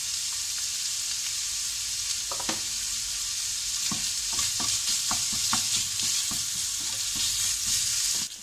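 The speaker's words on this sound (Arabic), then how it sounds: "من بعد ما تشحرات الكفته مع البصله" Kofta meat and onion fry in a pan with a constant, even sizzle, broken by scattered clicks and scrapes of stirring, close and fairly quiet, without talk.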